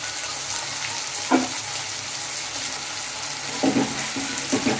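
Onions frying in hot oil in a pan for a spicy eggplant dish, a continuous bright sizzle with a few brief scraping stirs and clinks, close up and without speech.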